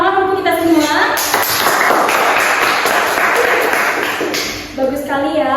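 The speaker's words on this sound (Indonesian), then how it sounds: "tepuk tangan untuk kita semua" A primary school class claps during a teaching simulation, a burst of dense clapping that swells and holds for a few seconds between stretches of a teacher's speech.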